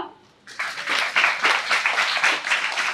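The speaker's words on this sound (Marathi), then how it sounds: "चला टाळ्या वाजवा." A group of children claps hands at a school workshop event, the applause starting suddenly after a brief quiet and continuing loud, close and lively in uneven bursts.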